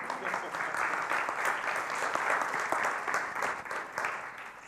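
Audience applause at an Excel conference talk, a steady wash of many hands clapping that holds for several seconds before easing off slightly.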